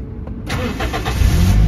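A car engine is started with a keyless push-button start: a brief cranking whir, then the engine catches and settles into a loud, close idle.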